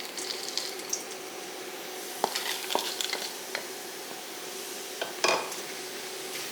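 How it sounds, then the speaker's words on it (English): Frozen peas are stirred into a dairy-free vegan mushroom risotto in a pan: soft sizzling underneath, with scattered scrapes and clicks of a utensil against the pan and a louder scrape near the end, no talking. "Now I'm going to add in some frozen peas."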